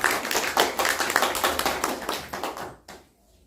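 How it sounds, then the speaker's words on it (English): At a spiritual gathering on the Bhagavad Gita, a small group applauds for Anisha with a burst of uneven, close-sounding hand claps. The clapping stays lively for nearly three seconds, then dies away into near silence. "let us give a big round of applause to Anisha."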